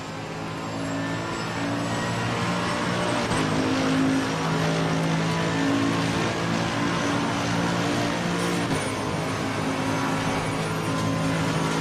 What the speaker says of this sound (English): have a listen to my engine. You'll hear me backing off.